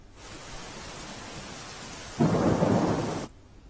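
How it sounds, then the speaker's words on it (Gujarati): Heavy monsoon rain pours down near the India-Pakistan border in Banaskantha, Gujarat, in a steady broadband roar that swells louder for the final second before cutting off. "વરસાદ સારો એવો પડી રહ્યો છે"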